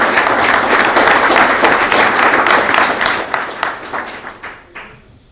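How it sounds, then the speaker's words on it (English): An audience applauds members of Congress at a presidential event, sustained dense clapping that fades gradually toward the end. "Give all these members a round of applause."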